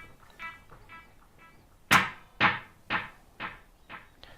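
A guitar through a Strymon Volante delay pedal with the repeat level turned all the way up: a few soft plucked notes, then a sharp struck note followed by a string of evenly spaced echoes about half a second apart, fading gradually.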